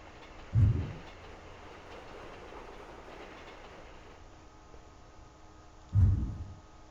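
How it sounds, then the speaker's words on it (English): Trains running through the A-Train 9 railway simulation, a low rumbling hum with two heavy thudding clacks a few seconds apart, like wheels over rail joints, moderately faint. "Trains traveling fairly empty."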